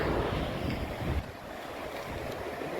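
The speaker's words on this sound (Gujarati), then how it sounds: "અવાજ આવે છે પાણીનો." Rushing rainwater flowing under a bridge near a dam, a steady broad roar of moving water with some wind buffeting, close and continuous without talk.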